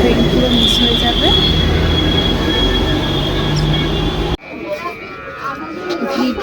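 A train rumbles past close by near a busy suburban rail station, with loud continuous wheel and rail noise and squealing wheels that cut off abruptly as the carriages clear, leaving quieter crowd and station ambience with voices.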